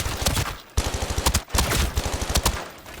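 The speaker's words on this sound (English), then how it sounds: "The MPX does shoot faster," Rapid automatic bursts from an MPX submachine gun in the shooter game Arena Breakout Infinite, three close, loud strings of fast shots separated by brief pauses.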